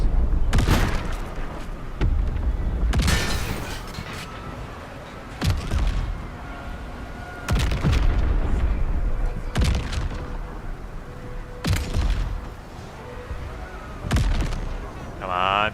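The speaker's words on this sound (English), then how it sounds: "God, there's so many Nautiloid strikes." Nautiloid strike explosions in Baldur's Gate 3 honor mode, a series of about seven heavy booms spaced a couple of seconds apart over a steady game background.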